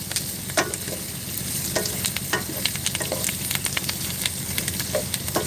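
Food frying in a pan while being stirred, a busy close sizzle with repeated scraping and clattering strokes of a utensil at an uneven rhythm.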